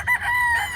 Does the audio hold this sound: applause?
no